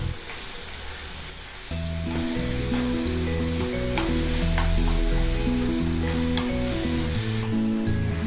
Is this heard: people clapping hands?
no